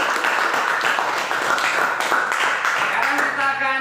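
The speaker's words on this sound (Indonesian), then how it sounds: "Sekali lagi tepuk tangan." A classroom full of people clapping steadily at a coding and artificial intelligence lesson, the applause fairly loud and even, with a voice briefly audible near the end.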